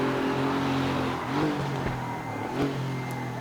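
Porsche Carrera Cup race car at Imola in the Raceroom racing game, its engine droning loud and steady up close, with brief shifts in pitch as the throttle and gears change.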